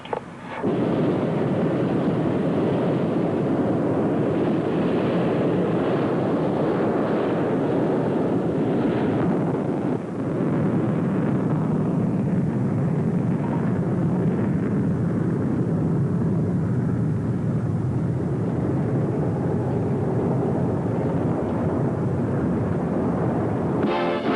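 Airplane engines roar as the aircraft takes off down a runway at Tucson, a loud, continuous broadband rumble that holds steady for the whole stretch.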